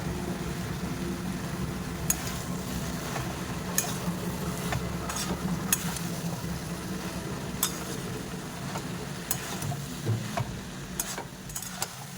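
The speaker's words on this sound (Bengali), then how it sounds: "আবার ওই সবজিগুলো দিয়ে দেবো দিয়ে ভালো করে মিক্স করে নেবো" Soybean chunks and shredded cabbage are stir-fried in a pan, with a low steady sizzle under irregular scraping and tapping of a spatula, close by and fairly quiet, with no talking.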